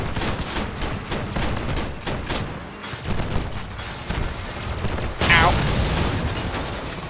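Bursts of vehicle cannon fire and gunfire rattle through a Crossout PvP battle, a vehicle-combat video game, with booming impacts, engine rumble and a sharp hit late on.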